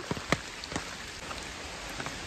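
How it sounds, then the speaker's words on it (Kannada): Steady monsoon rain in Dakshina Kannada patters down with a few sharper drops landing nearby, a constant wash of sound with no voices. "ಆ್ಯಕ್ಚುಲಿ ಬೆಳಗ್ಗಿಂದ ಜೋರು ಮಳೆ ಬರ್ತಾ ಇದೆ."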